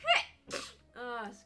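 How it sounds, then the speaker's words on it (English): A person sneezes once sharply, followed by a short breathy burst and a brief voiced exclamation, all close and fairly quiet. "Oh my god, I'm gonna sneeze again."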